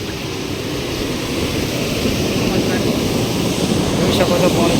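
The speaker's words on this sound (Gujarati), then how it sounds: "નહેરની બારી ખુલ્લી છે, નદીમાં પાણી જવા છે" Water surges out through an open canal gate of the Dantiwada dam into the river, a loud, steady broadband roar with no pauses from start to finish.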